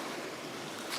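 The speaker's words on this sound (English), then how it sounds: "getting ready to cross in through another creek." A shallow, cold creek in the Lost Creek Wilderness rushes nearby during a wade across, a brief, steady broadband wash of flowing water with no speech.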